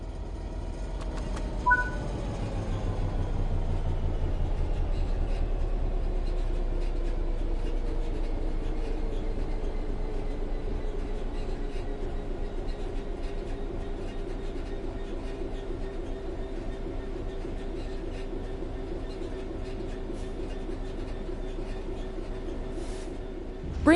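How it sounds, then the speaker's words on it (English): A Train Sim World 3 locomotive coasts on level ground with throttle at zero: a steady low rumble and rolling rail noise, with a faint high whine that slowly lowers in pitch as the train gradually loses speed, continuous and fairly close. "The train will then coast on level ground, and the train will only slow down very gradually."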